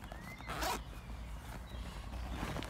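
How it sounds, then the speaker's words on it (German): A two-way zipper on a backpack compartment is pulled with a quick, close rasp, followed by fainter rustling and handling noises. "wir haben hier unseren 2-Wege-Reißverschluss."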